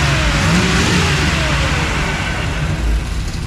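A cammed small-block V8 truck engine with a carburetor runs steadily at a raised idle, a loud, close, continuous rumble with a slightly uneven lope throughout.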